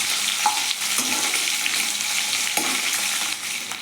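Green chilies fry in hot oil for a poori curry, a constant crackling sizzle up close with a few soft spoon strokes and light clinks mixed in.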